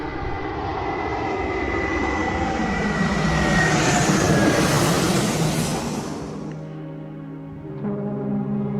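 A small airplane drones loudly overhead beside a little airport next to a campsite in Switzerland, its engine roar steady and close before easing slightly as it moves away.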